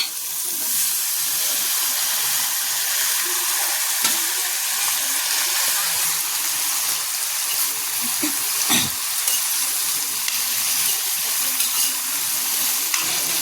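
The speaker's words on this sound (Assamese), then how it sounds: "এইফালে এয়া দেখিছেনে পিঁয়াজখিনি মই ভাজি আছোঁ আৰু ভাজি হৈ যোৱাৰ পিছত এইফালে এয়া চব মিক্স ভাজি বনাইছোঁ" Onions and mixed vegetables, including beans, carrots and potatoes, fry in a pan with a loud, continuous close-up sizzle and the occasional soft stirring scrape, with no voices.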